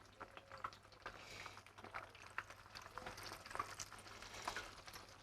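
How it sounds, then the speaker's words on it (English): Potato halves fry in oil, a quiet steady bubbling sizzle with small crackles and pops scattered throughout, faint and close with no voices over it. "I'm going to fry these till they're golden brown"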